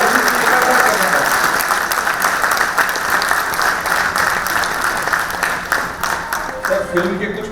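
An audience at an interview event gives loud, continuous applause, dense clapping that holds steady with faint voices underneath.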